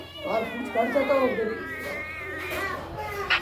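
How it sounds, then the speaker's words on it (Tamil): A cat meows repeatedly in drawn-out, wavering cries, close by, with faint voices in the background. "பாருங்க இன்னொரு பூனை"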